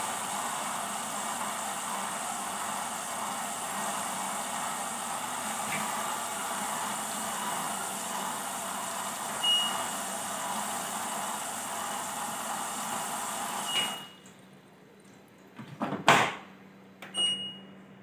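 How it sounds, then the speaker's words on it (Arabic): A 9 kg LG steam washing machine hums and churns steadily through its wash cycle for a long stretch, then cuts off near the end, leaving a few faint knocks and clicks. "كده الغسالة بتغسل"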